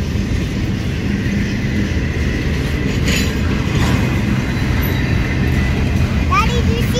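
A Norfolk Southern freight train rolls past a road crossing in Chattanooga, Tennessee, a steady loud rumble of wagons with a brief wheel squeal near the end, while people talk nearby.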